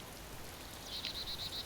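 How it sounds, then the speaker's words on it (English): Rain falls steadily in the video game DayZ Standalone as a soft, even hiss, with a high chirping, croaking creature call repeating several times in the second half. "It's starting to rain."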